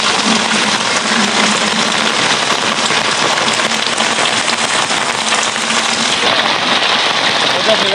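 Heavy rain pours down in a dense, loud, continuous hiss, steady throughout with no break, and a faint low rumble underneath.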